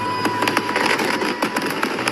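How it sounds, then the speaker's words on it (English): Fireworks crack and pop at a distance near Pearl Harbor in an irregular string of sharp bursts over a steady background rumble. "You can see and hear a wave of violent explosions in the distance."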